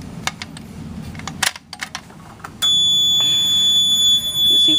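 A Siemens SXL-EX fire alarm control panel goes into alarm after a pull station is activated: a few clicks and taps, then a loud, steady electronic tone that starts abruptly and holds to the end.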